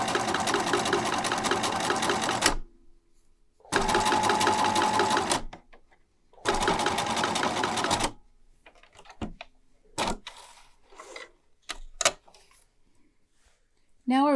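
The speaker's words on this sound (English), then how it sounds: "Now we're ready to sew the other pillow." A sewing machine stitching a felt heart pillow runs in three loud, steady bursts of rapid mechanical chatter separated by pauses, followed by softer handling clicks and rustles.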